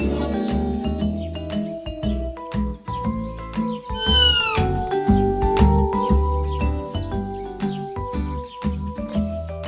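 A cartoon cat from a Hindi moral story, a mouse magically turned into a cat, meows loudly several times in quick succession, close and clear.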